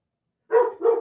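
A dog barks twice in quick succession, a loud pair of close barks after a moment of silence.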